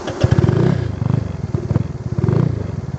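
A small modified motor scooter engine sputters to life and idles with a choppy, uneven putter, close by, with some clatter.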